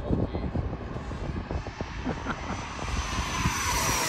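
A Freewing F-22 90mm RC jet flies past outdoors, a sustained rushing whine that holds fairly loud and swells slightly toward the end.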